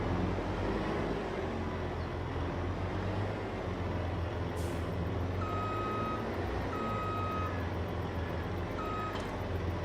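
Truck horn blasts and beeping from heavy equipment in Farming Simulator 22, several short tones over a steady low engine rumble.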